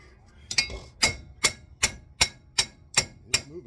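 Sharp metallic strikes ring out against a 1999–2002 Chevrolet Silverado 1500 2WD wheel hub, about eight blows in a steady rhythm roughly every half second, each with a bright clanging ring, close and loud in a quiet space.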